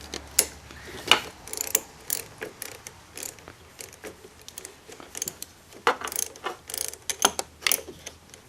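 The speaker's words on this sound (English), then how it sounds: "we're going to go ahead and do that with our 10mm wrench" Ratcheting 10mm wrench loosening the bolts on a motorcycle brake junction block during a Concours 14 riser install, steady irregular clicks and metallic clinks close up, with no talking.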